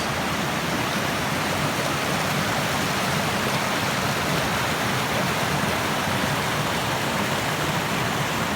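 A small mountain creek on Indian Creek in Tennessee's Cherokee National Forest rushes over rocks, giving a steady, loud, close broadband hiss of flowing water with no pauses.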